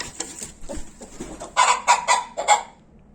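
A mother hen raising chicks clucks several times in a quick series of short, close calls, louder toward the end, with quieter bird noises before.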